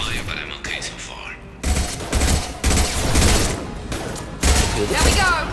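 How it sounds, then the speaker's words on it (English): Mass Effect 2 game combat at the Normandy crash site: bursts of rapid gunfire and sharp cracks come in clusters, loud and close, with a voice speaking between volleys. "I'm taking some fire, but I'm okay so far."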